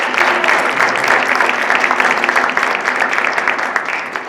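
Steady, dense applause from an audience at a Black History presentation in Greenbelt, Maryland, many hands clapping loudly and continuously for several seconds.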